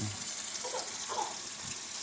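A cup of water poured over cut beef fat for slow-cooking tallow, heard as a continuous close splashing gush lasting about two seconds.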